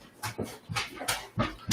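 A puppy whimpers and pants in short, close, rhythmic bursts, several breathy squeaks in quick succession.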